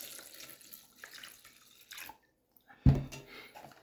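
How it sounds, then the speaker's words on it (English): Milk poured in a short splashing stream into a bowl holding a few spoonfuls of leftover yogurt as a starter for homemade grass-fed whole milk yogurt, quiet and close, with a brief louder splash near the end. "And I'm going to pour a little bit milk in here"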